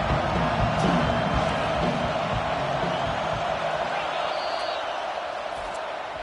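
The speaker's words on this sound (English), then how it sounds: "Decibels rising as the crowd gets behind this defense on 3rd down." Football stadium crowd roaring behind a Texas A&M game's defense on third down, a dense, steady wash of cheering and noise that stays loud throughout, easing slightly toward the end.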